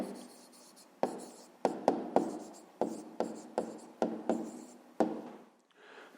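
A pen writes down the answer to a fifth-grade math problem, heard close and quiet as a series of short scratchy strokes, about ten quick taps and scrapes in irregular rhythm.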